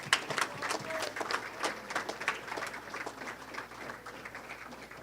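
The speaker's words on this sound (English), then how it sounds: "One more round of applause for Taylor." Scattered, fairly faint clapping from an esports awards audience, a loose run of individual claps that tapers off over a few seconds.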